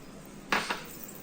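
A utensil scrapes twice through mixed vegetables and potatoes in a bowl, short quiet clinks over a soft background hush.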